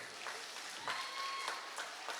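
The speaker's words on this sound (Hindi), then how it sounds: "उनके लिए एक ताली बजती है कम से कम" An audience claps for children who danced at a school Deepotsav program, a soft, diffuse patter of applause heard from a distance and held at an even level throughout.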